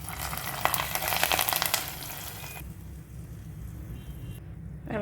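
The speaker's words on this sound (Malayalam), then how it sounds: "എണ്ണ ചൂടായി വന്നിട്ടുണ്ട്. അപ്പോൾ നമുക്ക് സ്റ്റൗ ഓഫ് ചെയ്തിട്ട് കറിയിലേക്ക് താളിച്ച് കൊടുക്കാം." Hot oil with curry leaves is poured into a chicken stew, giving a loud, bright sizzling hiss for a couple of seconds that then drops to a softer, steady bubbling.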